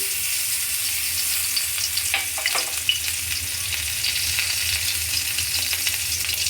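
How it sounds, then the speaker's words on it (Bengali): Ginger, garlic and a little turmeric sizzle in hot oil in a pan, a steady close frying hiss with a few soft stirring scrapes partway through. "তেল আমার গরম হয়ে গেছে এবার এর মধ্যে আমি আদা রসুন আর অল্প একটু হলুদ দিয়ে এটাকে একটুখানি আগে দিয়ে নিই"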